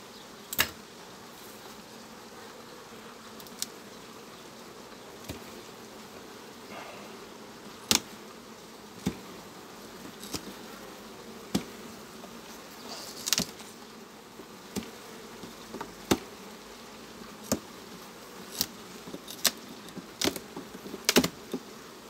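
Bees buzz around an open hive during beekeeping in the linden flow, a soft continuous drone broken by sharp clicks and knocks of frames being handled nearby.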